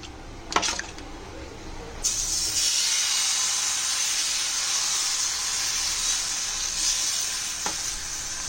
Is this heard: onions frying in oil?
yes